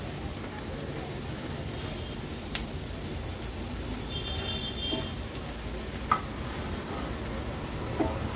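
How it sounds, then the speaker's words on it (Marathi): Onions with turmeric and salt sautéed and stirred in a pan for café-style egg bhurji, giving a steady close sizzle with occasional scraping clicks of the spoon, no talking. "हळद आणि मीठ कांद्यासोबत छान आपल्याला मिक्स करून घ्यायचे"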